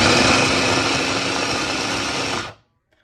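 Kitchen blender whirring steadily as it purees onions, tomatoes, jalapenos, cilantro and garlic into a sauce, a loud continuous motor drone that runs for about two and a half seconds and then cuts off abruptly.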